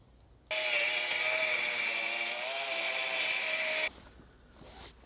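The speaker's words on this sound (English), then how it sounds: "I should be able to run the circular saw along this line." A circular saw rips through two clamped plywood sheets in one pass, a loud, steady high whine for about three seconds that starts and stops abruptly, with quieter workshop handling afterward.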